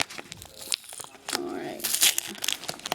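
Packaging tape is pulled and torn from a sealed parcel, producing crinkling rips and rustling bursts at close range as a person speaks between them.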